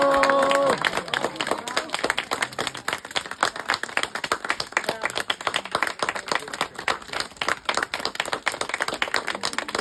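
Audience applause, a sustained stretch of many hands clapping with sharp, fairly even beats that begin after a brief voice and continue to the end.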